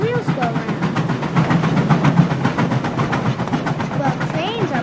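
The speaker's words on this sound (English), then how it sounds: "That chugging sound is the noise the piston makes when it moves back and forth to make the wheels go around." Skunk Train steam locomotive chugging along the California line, a steady rhythmic piston beat with hissing steam and rail noise, heard close and loud throughout.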